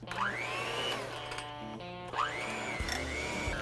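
An electric hand mixer blending keto game-day snack ingredients whirs steadily near the mic, its motor pitch rising and falling as the speed changes, with a few clattering bumps against the bowl.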